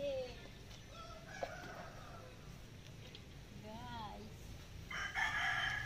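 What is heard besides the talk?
rooster crowing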